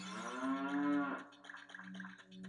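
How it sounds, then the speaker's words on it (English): A single cow moos in the video game The Legend of Zelda: Ocarina of Time, a long drawn-out low call that breaks into a rougher, choppy tail, heard alone and fairly quiet. "A cow."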